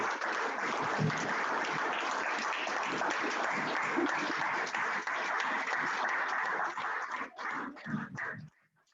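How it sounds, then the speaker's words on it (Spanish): A church congregation claps together in praise, a steady, moderately distant wash of applause with a few louder low thumps, thinning out and stopping abruptly near the end. "Den un aplauso al Señor, hermano."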